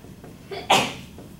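A single sharp sneeze bursts out during a statistics lecture, preceded by a short intake of breath, fairly close in a quiet room.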